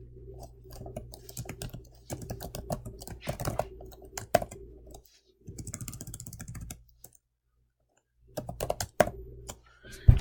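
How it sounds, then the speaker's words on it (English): Typing on a computer keyboard while entering spreadsheet formulas, with close, crisp clusters of key clicks in quick irregular runs separated by short pauses. "now this one I'm just going to type"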